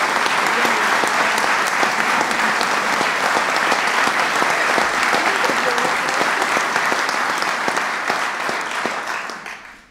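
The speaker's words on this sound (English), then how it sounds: "So please give all of these legislators a big round of applause." Sustained applause from an audience for legislators at a public lands protection bill signing, dense and loud clapping continuing for nearly ten seconds before fading at the end.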